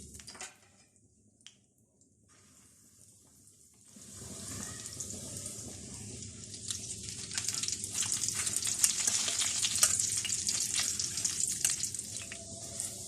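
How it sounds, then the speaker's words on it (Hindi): Fish cutlets fry over low heat in a pan, a quiet stretch giving way after a few seconds to a steady, fairly close sizzle and bubbling hiss that holds to the end, with no voices. "हल्की आंच पे इनको फ्राई करेंगे।"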